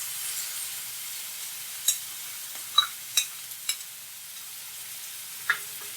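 Tomato paste sizzling in a pan for an egg curry, a steady soft hiss with a few sharp spatters and stirring scrapes, close and alone without talk.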